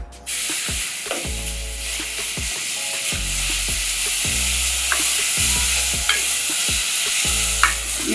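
A spoon scrapes and stirs rava kesari, semolina cooking in water in a pan, in a steady rhythm of repeated strokes over a continuous low sizzle, close and fairly loud, with no talking.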